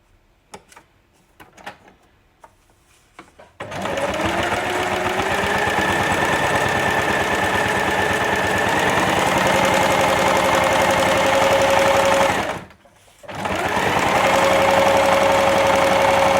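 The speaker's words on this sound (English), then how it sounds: "you're going to stitch the two together." A sewing machine runs steadily while stitching foundation paper-pieced quilt pieces together, a close rapid mechanical hum with a whining motor, starting after a few quiet seconds and stopping briefly before resuming.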